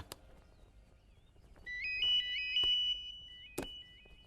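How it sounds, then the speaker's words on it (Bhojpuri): A mobile phone ringtone plays a repeated melodic electronic tune for about two seconds in a quiet indoor scene, with a few sharp knocks around it and no talking. "अरे हाँ, फोन बाजता।"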